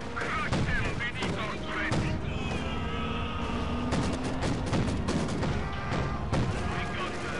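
Gunfire in the video game Company of Heroes 2, a busy close battle of rapid shots and heavy bangs over continuous rumble, with game voices shouting throughout.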